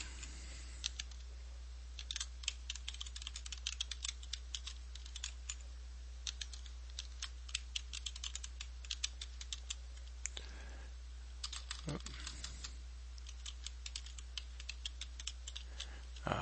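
Computer keyboard typing while entering a name, email and password to register for AutoCAD: irregular bursts of light key clicks running throughout, fairly faint and close, with a brief pause near the middle and no talking.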